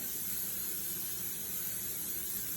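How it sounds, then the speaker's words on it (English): A steady, soft hiss of aerosol cooking spray sprayed into a crock pot, continuous and even for a couple of seconds with nothing else around it. "you want to spray it with Pam,"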